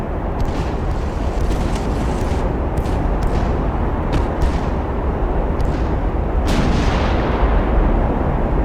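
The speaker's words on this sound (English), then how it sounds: "Just having those single 11-inch guns, yeah, they are nice if they do hit." Naval gunfire from single 11-inch guns in a large Russian fleet battle in Ultimate Admiral Dreadnoughts, with a few brief booms and bursts over a loud, continuous roar of battle noise.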